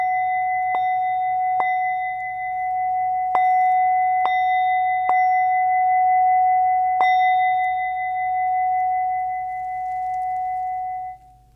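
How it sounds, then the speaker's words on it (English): A singing bowl is struck on the rim with a mallet six times at uneven intervals, and each clear strike blooms into a sustained, steady ringing tone that lingers loudly between hits. "you're going to use your mallet to strike the rim of the bowl and just allow it to resonate"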